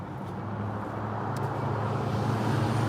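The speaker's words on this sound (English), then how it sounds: "a red and a blue truck as a loud truck drives by me" A loud truck drives past on a street, its heavy engine rumble filling the scene and swelling steadily as it draws nearer, with no voices over it.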